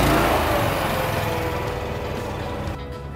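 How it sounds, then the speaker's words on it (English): Engine of a CTE Traccess 200 aerial work platform, started by key at the back of the machine, runs loud and steady at close range, then eases slightly toward the end. "So you go to the back of the engine and you turn the key to start."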